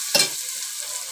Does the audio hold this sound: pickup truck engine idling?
no